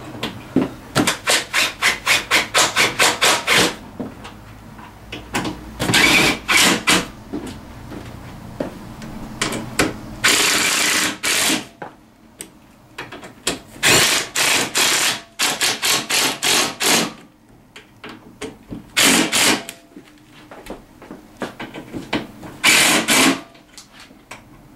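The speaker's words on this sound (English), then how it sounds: "Now I'm going to go ahead and just start ratcheting them down." Bolts go down on a Tao Tao CY50D scooter with a hand ratchet, giving rapid close clicking in repeated runs separated by brief pauses, loud and without speech.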